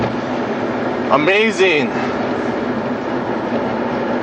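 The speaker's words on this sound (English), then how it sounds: "there's a train coming" A train passes during a heavy snowstorm along a highway, a steady rumbling wash running throughout under a brief exclaiming voice partway through.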